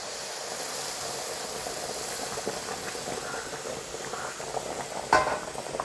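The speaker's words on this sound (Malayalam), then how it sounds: "നമുക്ക് തിളച്ച വെള്ളം അങ്ങോട്ട് ഒഴിച്ചു കൊടുക്കാം" Boiling water is poured into a pan of semolina for a coconut-milk upma, a steady close hiss and sizzle of liquid hitting hot food, with a brief clatter near the end.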